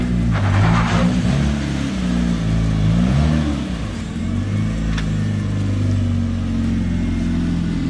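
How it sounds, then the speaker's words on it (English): Honda Civic engine revving hard through a burnout outdoors, a loud sustained drone with rising and falling pitch sweeps over constant tire and exhaust roar, close and continuous throughout. "Yo, the first burnout."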